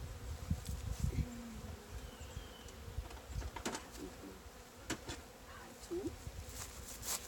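Honey bees hum steadily around an opened hive during an autumn inspection before winter, a dense close buzz with individual insects flitting past, and occasional soft handling noises mixed in.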